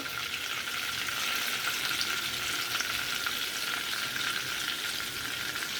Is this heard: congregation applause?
no